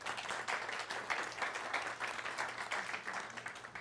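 Applause from a live-stream gathering audience, a steady dense wash of many hands clapping at moderate level throughout, somewhat distant with no talk over it.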